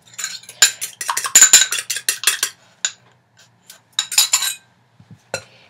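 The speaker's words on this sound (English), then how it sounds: "So about a teaspoon of vanilla and your 1 egg." Vanilla and an egg are being stirred into cookie dough for oatmeal coconut chocolate chip cookies, heard as a quick run of close, loud clinks and scrapes of a utensil against a bowl that slows into scattered knocks, with no voices.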